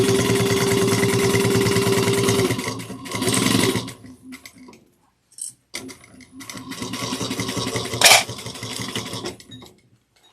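A sewing machine runs a fast, steady stitch along the bottom of a bag, buzzing in several runs of different lengths. Short pauses and small handling noises fall between the runs.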